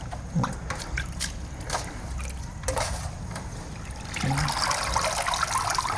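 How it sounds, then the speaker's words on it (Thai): Freshly picked neem leaves are rinsed under running water, giving a steady splashing trickle with scattered clinks and rustles, rising slightly louder toward the end. "เราก็ล้างเลยหน่อยนะคะ เพื่อให้ฝุ่นอะไรเขาออกไป"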